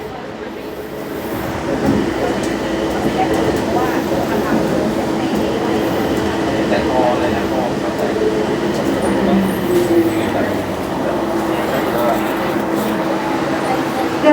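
A Bangkok Gold Line electric train arriving at a station, a steady rumbling roll and hum that swells slightly before leveling off, with people talking over it.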